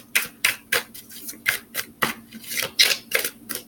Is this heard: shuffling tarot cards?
yes